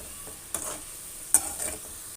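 Cabbage and carrot pakoda fry in hot oil with a steady sizzle, broken by two sharper stirring scrapes as the fritters are moved, close and alone.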